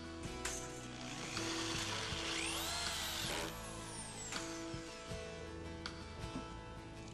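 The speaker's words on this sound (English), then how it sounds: "using a drill with a countersinking head not only makes the job go a lot faster, but it also ensures every screw is countersunk to the exact depth" A drill fitted with a countersinking head drives screws into deck boards, giving a close whirring burst that rises and ends with a clunk, then quieter ratcheting clicks and knocks of tool handling.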